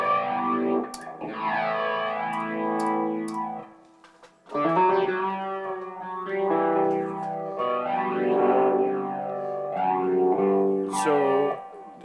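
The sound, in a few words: TC Electronic Vortex Flanger guitar flanging effect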